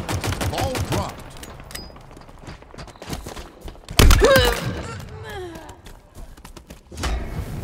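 Gunfire in a Halo Infinite Oddball multiplayer match: scattered shots and bursts with a louder cluster near the middle, mixed with in-game voice callouts and other game sounds.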